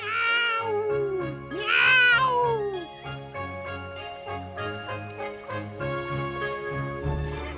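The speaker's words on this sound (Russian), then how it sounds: "Он мяукает, чтобы нас напугать." A cat meows loudly several times over a musical backing with tinkling tones, the meows sliding and wavering.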